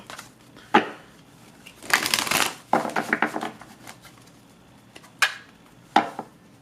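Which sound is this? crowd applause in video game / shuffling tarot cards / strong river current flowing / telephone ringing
shuffling tarot cards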